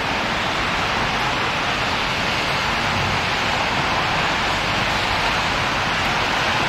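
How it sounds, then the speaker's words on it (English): Steady rain falls outdoors on an ongoing wet morning, a dense, even hiss filling the whole stretch without pause, with no voices over it. "It's raining outside."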